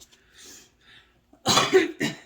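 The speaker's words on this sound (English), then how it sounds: "I've had a cough every time I sit at this table." A couple of quiet breaths give way to a burst of harsh, close coughs, then one more cough after a brief pause.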